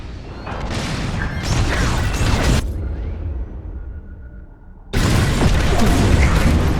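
Heavy booming explosions from bombs dropped during a Star Wars Squadrons space battle, loud and continuous, with a sharp cut to quieter rumble before another dense blast of roaring impacts.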